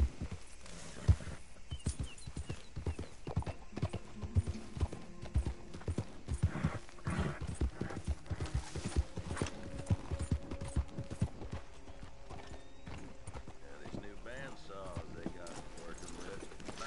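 A horse walks at a slow pace in Red Dead Redemption 2, hooves clip-clopping in a steady, near rhythm beneath someone talking over it.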